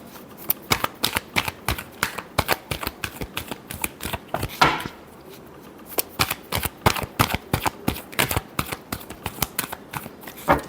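Tarot cards being shuffled by hand in rapid, crisp riffling bursts, dozens of quick flicks and snaps in an irregular rhythm, close and clear with no voice over them.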